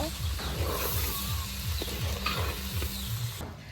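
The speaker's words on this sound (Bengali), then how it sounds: "চালটা আবারও মশলা দিয়ে ভালোভাবে কষে নেব" Rice stir-fried with ginger, salt and spices while cooking pulao, giving a steady close sizzle with repeated scraping strokes of a spatula through the pan, under light background sound.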